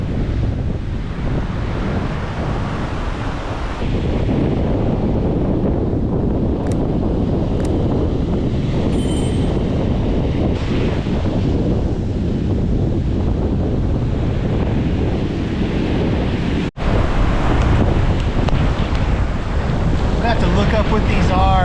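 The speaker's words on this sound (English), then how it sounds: "It's a little blustery out here, but we've got some surf" Blustery wind buffets the microphone in a steady roar over breaking ocean surf on a beach, loud and continuous with a single sharp knock near the end.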